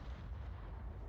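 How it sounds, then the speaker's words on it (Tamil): Continuous rumbling explosions from a modded creature's powers in ARK Fjordur, a dense, steady low-heavy roar of blasts with no distinct gaps, no voices over it. "ஆ வெடிச்சு செதறான் பார்த்தீங்களா அவனோட பவர்ஸ்"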